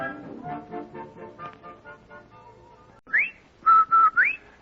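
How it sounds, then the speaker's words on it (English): The Rinso White soap advertising whistle from an old-time radio broadcast: a short rising whistled note, then a held tone that slides upward, heard after a run of soft, evenly spaced tonal pulses. "That's the Rinso White whistle."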